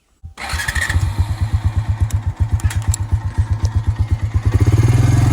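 A motorcycle engine cranks with a short starter whirr, then catches and settles into a loud, close, rhythmic thumping idle that speeds up slightly toward the end.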